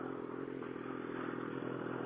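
A 2014 BMW S1000RR sport motorcycle on its stock exhaust holds a steady, fairly quiet engine drone at a distance, with no clear rise in revs over the short stretch and no speech.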